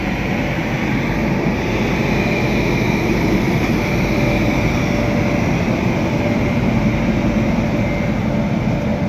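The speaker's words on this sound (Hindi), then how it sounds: "गया चेन्नई एक्सप्रेस।" The Chennai Express rolls past on the line between Varanasi and Pandit Deen Dayal Upadhyaya Junction with a loud, continuous, unbroken rumble and rushing roar that stays constant throughout, with no voices.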